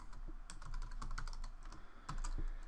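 Quick, light tapping on a computer keyboard, a short run of close clicking keystrokes at a quiet level with no talk.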